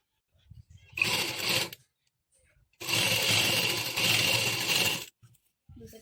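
A sewing machine stitching the shoulder seam of a blouse in two bursts, a short one and then a longer steady run, close and fairly loud, with quiet pauses between.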